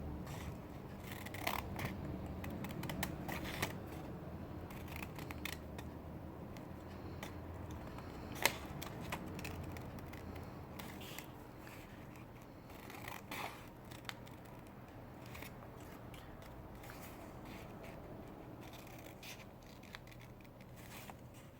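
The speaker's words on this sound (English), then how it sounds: "we're going to take our scissors and cut slits in here" Scissors snip slits into folded paper for a winter pop-up junk journal, a close, steady run of crisp cuts and small rustles with no talking.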